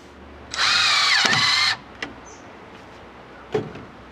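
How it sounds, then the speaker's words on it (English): A power drill boring pocket screw holes in wooden cleats whines at high speed for about a second, then winds down, followed by a couple of sharp wooden knocks. "Before installing these cleats for good, I drilled, you guessed it, pocket screw holes."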